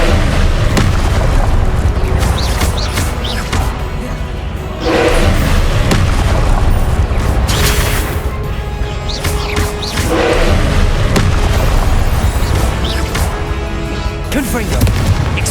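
Confringo blasting spells exploding in Hogwarts Legacy combat, repeated heavy booms and thuds in a dense, loud battle soundscape, with a player shouting spell names throughout.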